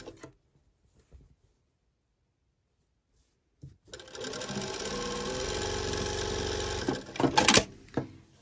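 A sewing machine stitches the inseam of pyjama pants, starting after a few seconds of near silence, then running as a steady close whirring burst of about three seconds, followed by a few short clicks and stops.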